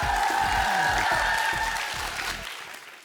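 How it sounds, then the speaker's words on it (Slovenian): Audience clapping together for two primary school teams at a quick cup-stacking contest, a dense steady patter of hands that stays loud before thinning out toward the end, with no voices over it. "zaploskamo na glas obema ekipama"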